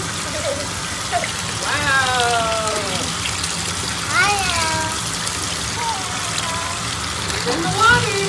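A toy dinosaur is splashed and moved through bath water, with a steady wash of sloshing and dripping under the voices of an adult and someone talking throughout.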